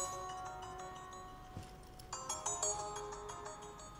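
A phone ringtone plays during a Vietnamese TV drama scene, a bright repeating electronic melody that grows fuller partway through, fairly quiet and alone.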